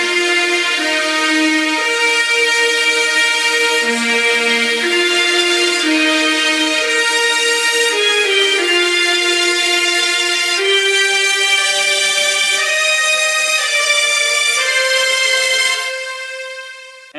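Sustained orchestral strings with high violins answering horn and trumpet phrases in a melodub remix. The music is loud and layered, slowly shifting chords with no voices, fading out at the very end.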